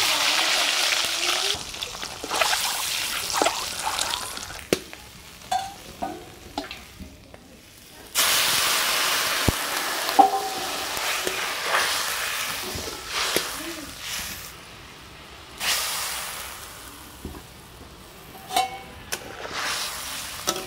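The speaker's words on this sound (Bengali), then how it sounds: "মাছ ভাজা হয়ে গেল" Fish frying in a pan in a home kitchen: steady broadband sizzle with scattered clicks and scraping knocks, dropping quiet briefly before a louder burst of hissing resumes, close and continuous with no talk.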